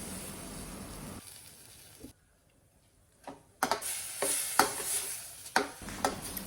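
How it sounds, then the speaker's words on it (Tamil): Mango pachadi with jaggery and curd stirred in a pan, a scraping stir with soft clicks of the spoon against the metal over a faint sizzle, pausing briefly near the middle before resuming with sharper knocks. "ஒரு 3 மினிட்ஸ் இப்படியே மெதுவாக ஸ்லோவாக கிளறி கொடுத்துட்டு"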